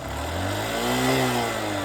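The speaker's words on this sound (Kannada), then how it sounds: "ರೇಸ್ ಮಾಡಿ ರೇಸ್ ಮಾಡಿ ರೇಸ್ ಮಾಡಿ ಹತ್ರ ರೇಸ್ ಮಾಡಿ" A motorcycle nearly out of petrol revs up close by, its engine note rising in a smooth swell and easing back over a couple of seconds.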